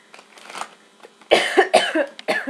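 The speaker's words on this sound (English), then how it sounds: "Cough, cough, cough, oh dear." Soft breathy noises lead into a burst of several harsh, close coughs in a rapid uneven series.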